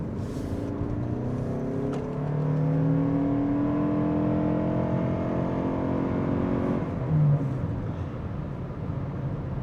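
A 2025 Toyota Crown Signia Limited accelerates onto a highway, heard from inside the cabin. Engine hum rises in pitch with steady tonal whine over road and wind rumble, briefly swelling again near the end.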